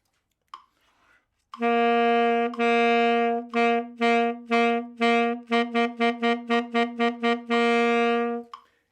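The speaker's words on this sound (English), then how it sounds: "I'm going to turn on the metronome, and we're going to play this articulation pattern" A tenor saxophone plays a long held note, then a run of short, evenly spaced articulated notes, ending on another sustained tone; no metronome click stands out.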